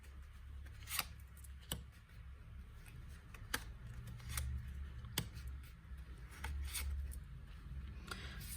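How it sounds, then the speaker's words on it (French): Tarot cards are shuffled and drawn by hand, giving soft rustling and scraping punctuated by sharp snaps and slaps about every second, close and quiet over a low steady hum. "on va tirer les cartes rapidement"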